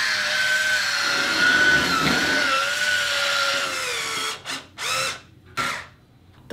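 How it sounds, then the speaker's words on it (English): An Oster electric wine opener's motor whirs with a steady, high whine for about four seconds, dips slightly, then gives several short on-off bursts as the switch is pressed again. "Hold the opener firmly and depress the lower part of the switch."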